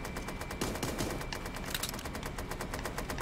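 A minigun firing in the cartoon battle royale game Super Animal Royale, a continuous rapid stream of small rattling shots that runs without pause, busy and fairly loud with no talking.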